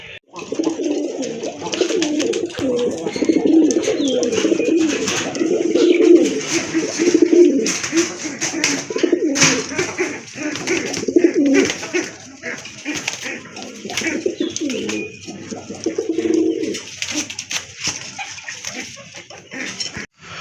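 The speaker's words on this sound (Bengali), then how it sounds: "এটা হচ্ছে টাইগার কালারের ভিতরে হিউজ সাইজের এক জোড়া কবুতর" A pair of huge, tiger-coloured pigeons coo steadily and repeatedly close by, with a background hiss and occasional sharp clicks and rustles.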